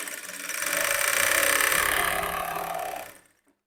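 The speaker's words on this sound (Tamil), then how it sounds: "இந்த மாதிரி அப்படியே தையல் போட்டுப்போம்" Sewing machine stitching cloth for a blouse; a steady mechanical whirr runs continuously for about three seconds, close and fairly loud, then stops abruptly.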